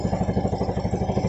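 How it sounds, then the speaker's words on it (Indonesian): Close, steady idle of a Yamaha Jupiter Z motorcycle just after starting, a loud, even rhythmic putter with regular pulses and no talk. "setelah motor kita hidupkan"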